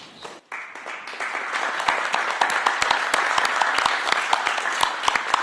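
Sustained applause greets executives of Korean companies such as Hyundai, SK and LG as they stand at a formal event, a steady dense crowd clapping that swells after a brief dip and carries on loudly throughout.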